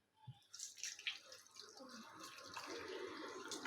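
Water poured into a cooking pan over tomatoes, garlic, ginger and chillies, starting with a few drips and splashes then settling into a steady, faint pouring wash, with no talking.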